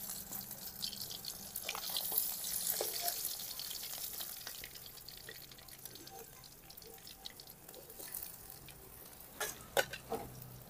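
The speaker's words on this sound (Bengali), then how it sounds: "এবার বাকি মাছগুলোও ভেজে নেব।" Pabda fish frying in oil hiss and crackle quietly in the pan, with a few sharper drips and pops toward the end and faint kitchen movement.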